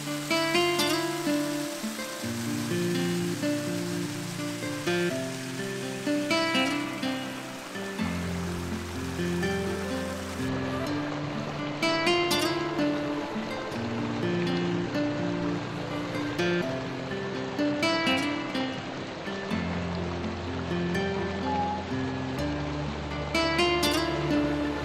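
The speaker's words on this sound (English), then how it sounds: "So I am here at the waterfall now." Mountain waterfall in autumn, a steady broadband rush of falling water heard up close and continuous, with some intermittent clattering and shifting tones layered over it and no talk.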